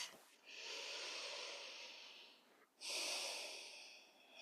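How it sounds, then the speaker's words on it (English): Two long, deep breaths during a yoga practice, each a full airy inhale-exhale lasting about two seconds, close and clear with a brief pause between them and no talking. "Here we'll enjoy several deep, full, and expansive rounds of breath."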